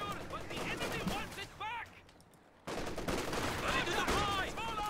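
Rapid machine gun fire with dense bursts and clatter in a multiplayer World War II battle game, near and loud, briefly cutting out for a moment before resuming. A commentator's voice runs underneath.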